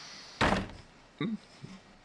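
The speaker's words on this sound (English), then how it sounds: "Man hits the door frame lightly." A man lightly hits a wooden door frame with his hand, giving one dull, fairly soft thump, then a couple of fainter knocks and taps in a quiet room.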